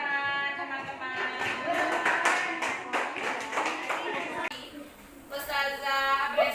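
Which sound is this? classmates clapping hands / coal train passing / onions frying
classmates clapping hands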